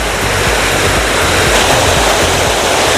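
Loud, constant rush of water at Jami waterfall, where people are swimming, a dense unbroken roar close by with no voices standing out.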